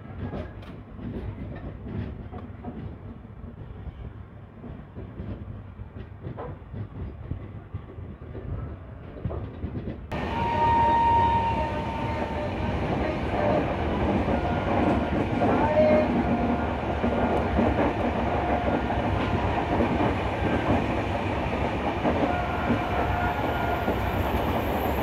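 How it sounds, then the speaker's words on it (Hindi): A Mumbai–Pune Duronto express rolls past on a parallel double line, its steady rumble and wheel clatter swelling partway through and staying loud, heard from inside a moving train with faint talk in the background. "वो जो ट्रेन जा रही है ना यहाँ वही है"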